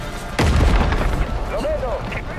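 A bomb blast in the video game Far Cry 5 lands as one deep booming explosion that rolls on with a rumbling tail, loud and close, while a voice speaks over it.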